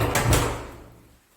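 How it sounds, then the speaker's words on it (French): A door in a house shuts with two quick knocks of closing, near and fairly loud, followed by a short fading room echo; no one speaks. "Je referme la porte."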